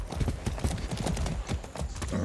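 Horse hooves clop in a quick, uneven rhythm close by in Far Cry 6, with a short whinny mixed in; no talking.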